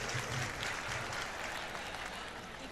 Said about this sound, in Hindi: एक बार जोरदार तालियां बजाकर इस बच्चे का आप मान वर्धन करें।